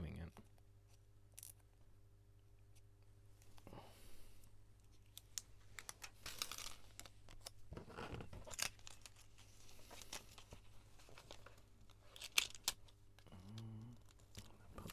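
Scissors snip off small bits of laminating sheet with scattered soft cuts and crinkles, amid rustling handling and a low background hum, with occasional quiet speech.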